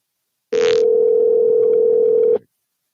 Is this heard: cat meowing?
no